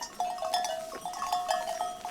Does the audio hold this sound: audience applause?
no